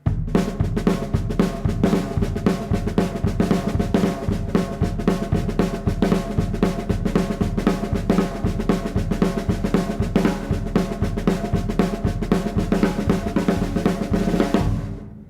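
Steady drum train beat played with sticks, a fast continuous shuffle of snare strokes with accents between lines, loud and unbroken for about fifteen seconds before stopping abruptly.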